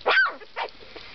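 A Havanese puppy gives a couple of short, high yappy barks close by, the first louder, followed by a faint third yip.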